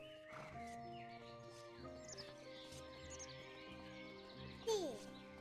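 A horse in The Guild 3 gives a short, loud whinny near the end, over steady game music, birdsong and soft ambient clatter.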